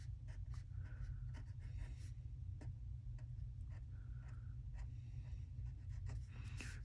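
A pen scratches across paper while drawing a projectile launch diagram, with quiet strokes and taps in an uneven rhythm over a low steady hum.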